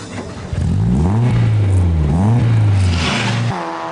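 A 1600cc rallycross car engine with a sports exhaust revs hard close by, climbing and dropping in pitch twice in a loud, rasping roar before cutting off abruptly.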